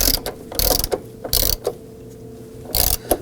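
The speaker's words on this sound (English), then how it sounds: "I'm going to go ahead and use my ratchet and we'll snug that down" A ratchet tightening a bolt on a 2001-2009 Volvo S60 front door check gives several close bursts of rapid metallic clicking separated by short pauses.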